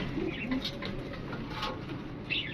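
A Kasuri flying pigeon coos in low, rolling phrases, close and clear, with faint chirps at the end and very little talk.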